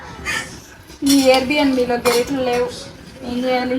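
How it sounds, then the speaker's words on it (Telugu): A big spoon knocks and scrapes against a pot as biryani is mixed, with repeated metallic clinks and clatter, while people talk over it. "అంత స్పూన్ తో అంత బిర్యానీ కలుపుతుంది అన్నమాట"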